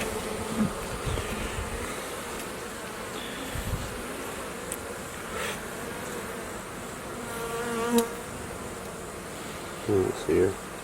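Honeybees buzz steadily around a hive frame during a hive inspection, a close, continuous insect drone with a few brief louder passes.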